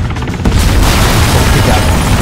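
A loud, close RPG rocket blast in ArmA 3 arrives half a second in as a sudden heavy boom, then a dense roaring rumble sustained to the end, no talk.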